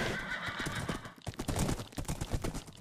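Minecraft horse whinnying loudly at the start, followed by a run of hollow clip-clop hoofbeats in a quick uneven rhythm, heard up close with no talk.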